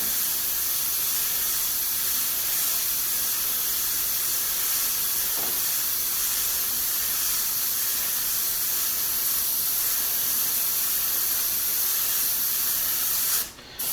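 An airbrush sprays paint over a mask onto a metallic panel, a continuous loud, even hiss that holds steady for over ten seconds before cutting off abruptly at the end.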